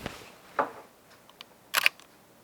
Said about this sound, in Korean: 1000으로 놓고 제 마이크에다가 찰칵 소리 들으셨죠?